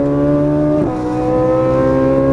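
A Ferrari 458 Italia engine revs hard on a race track, a loud, steady high-pitched wail that dips briefly as it shifts gear and then climbs again, heard from on board.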